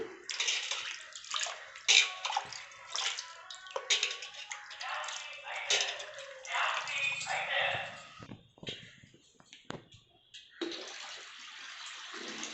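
Water is poured from a bucket over a clay Ganesh idol at home for immersion, in irregular splashing, sloshing bursts with brief pauses, close and moderately loud, with some talk around it.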